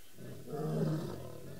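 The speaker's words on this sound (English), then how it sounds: "Those were the females roaring." Female lions roaring in the Masai Mara, one deep rumbling roar swelling up and fading over about a second, heard at a distance above a low outdoor background.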